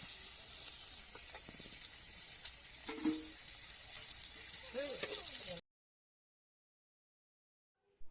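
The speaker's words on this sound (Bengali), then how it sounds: "থালাতে আরও একটা মাছ আছে সেটাও একইভাবে ভেজে নেব" Pabda fish fries in a pan of hot oil, a steady close sizzle with soft crackles and faint clinks, ending abruptly in silence before a brief final bump.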